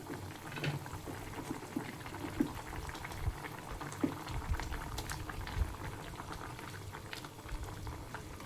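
Fish and potato curry bubbling at a boil in a covered pot, with a close, continuous burble of liquid and scattered soft pops, no voices.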